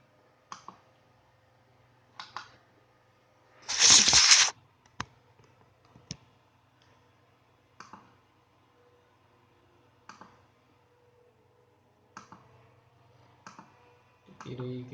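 Sharp left-button clicks of a computer mouse during PCB design work, arriving singly and in quick pairs at irregular intervals, with a brief louder burst of noise in the middle and a low steady hum underneath.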